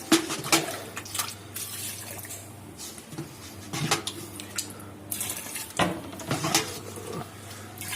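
Water splashes and trickles into a bowl with scattered drips and clinks of a container, close by and uneven.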